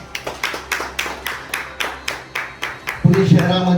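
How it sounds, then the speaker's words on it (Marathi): Audience applause at a Pune gathering honouring an Ironman and Everest athlete: a steady run of rhythmic claps, about four per second, for three seconds, then a voice or music swells in over the last clapping. "त्यांच्यासाठी टाळ्या होऊन जाऊन द्या"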